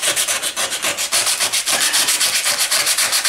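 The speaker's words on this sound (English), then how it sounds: "And I've got my belt sander and I've got my polisher." An old knife is worked against a belt sander, giving a loud, close abrasive rasp that pulses in a quick regular rhythm of strokes, several per second, with no voices.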